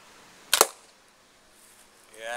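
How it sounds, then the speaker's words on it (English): A Tora Tactical slingshot fires a bigger bullet at a target, giving one sharp, loud snap-and-impact burst that fades quickly into quiet room tone. "I'm gonna shoot the bigger bullet now"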